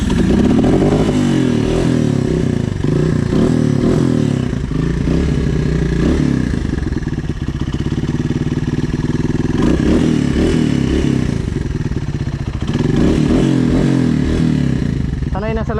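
An off-road motorcycle revs hard over a rough, rocky trail, its engine loud and close and rising and falling throughout, with scraping and clattering and people talking over it.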